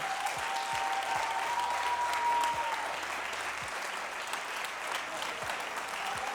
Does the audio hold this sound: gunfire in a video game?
no